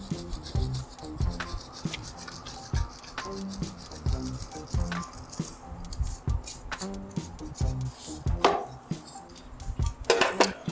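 Laundry soap bar grated by hand for a homemade remedy, giving repeated scraping, rasping strokes in an uneven rhythm, close and fairly quiet, with occasional knocks.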